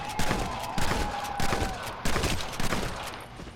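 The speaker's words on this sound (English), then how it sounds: "Stop shooting at me." Rapid gunfire in Red Dead Redemption Undead Nightmare, a dense volley of sharp loud shots in quick clusters over a few seconds, with a faint background tone.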